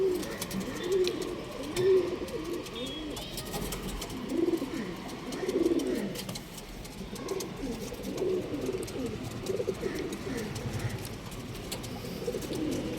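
A female Makshi breed pigeon coos close by in low, rolling repeated phrases that return every couple of seconds, with soft rustling and faint background noise and no voices.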